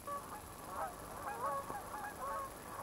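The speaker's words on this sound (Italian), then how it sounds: "Anatre e oche canadesi si riuniscono in grandi stormi e cominciano la loro migrazione verso sud." A flock of Canada geese in Yellowstone National Park, Wyoming, in winter, honking repeatedly at a moderate distance, overlapping calls in an uneven chorus over a steady background hiss.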